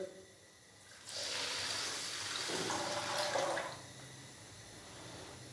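About half a litre of water poured into a wok of sugar for a mango syrup, a steady splashing gush lasting a few seconds at moderate loudness, heard alone.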